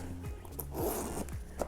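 The zipper of an Aupen handbag is pulled open in a few quick, close rasping strokes that run for under two seconds.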